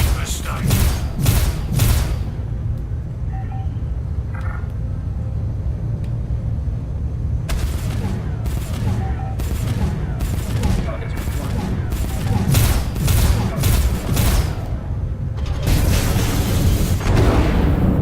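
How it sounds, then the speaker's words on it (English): Ship guns fire in Star Citizen from an RSI Constellation, loud rapid volleys of booming shots in bursts with short pauses between, over a steady low engine rumble. "I am inflicting some massive amounts of damage with my guns."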